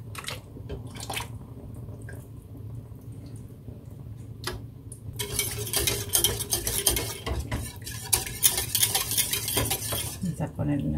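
Spoon scraping and stirring a lasagna mixture in a pot, sparse clinks at first, then busy, continuous clattering and sloshing close by.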